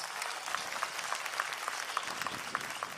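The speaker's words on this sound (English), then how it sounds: "Let's give Dr. Kim Honoree another round of applause." Faint, distant applause at a university commencement ceremony, a dense patter of clapping from a crowd heard at low level, with a few sharper individual claps standing out.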